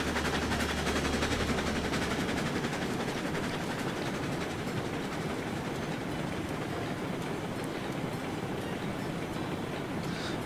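In the video game Railroads Online, a train rolls past during an Alaskan snowstorm, making a dense, steady rumble and rapid rhythmic clatter that continues loudly and evenly throughout.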